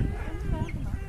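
Chickens raised on a small family farm clucking softly and continuously at close range, a low muffled background with faint voices mixed in.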